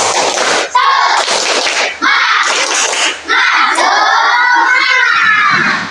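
A group of schoolchildren shout an Indonesian clapping chant together in a loud, steady rhythm, their voices packed close and continuous for several seconds.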